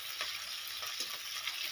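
Onion and ginger fry in a pan in a village kitchen, giving a steady soft sizzle with faint stirring scrapes, moderately quiet and with no talking.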